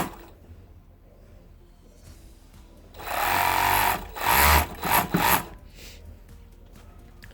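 An overlock sewing machine finishes the raw fabric edge of a men's barbecue apron, whirring loudly in two or three short, fast bursts with brief pauses, after a quieter stretch of low handling noise.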